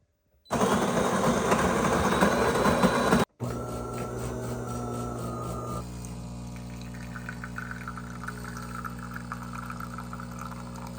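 A De'Longhi Dinamica espresso machine brewing a double espresso at maximum intensity, starting with a loud grinding whir, then a brief stop followed by a steady pump hum and liquid flow that settles into a quieter drone.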